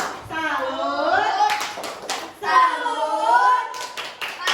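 A group of schoolchildren in a coding class chants 'tepuk salut' together, their voices rising in two drawn-out sung phrases punctuated by sharp hand claps, with the chant and clapping fairly close and loud.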